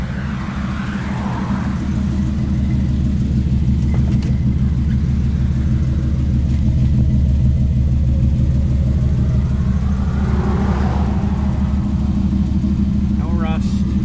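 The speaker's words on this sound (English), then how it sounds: "we'll drive it down the road, let you see it drive" A 1959 Chevy Biscayne drives down the road, its engine producing a steady, loud low rumble and hum that continues unbroken, with faint whooshes of passing air.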